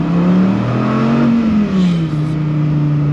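A Dodge Viper ACR's engine revs alone, rising and falling in pitch as it accelerates through the gears, loud and close with a steady mechanical drone.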